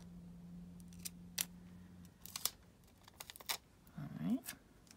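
Scissors cut through newspaper in a few short snips and crisp paper rustles, quiet and close, with a brief stretch of low hum at first.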